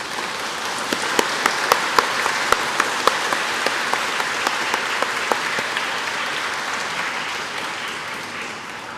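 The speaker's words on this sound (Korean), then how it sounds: "힘찬 환영의 박수를 부탁드리겠습니다" A church congregation at a Sunday service applauds in welcome. The dense clapping runs throughout and fills the space, with a few sharper individual claps standing out early on.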